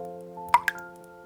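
Water drips from a ceiling, two close, distinct plinking drops landing a fraction of a second apart over a quiet, faint hum.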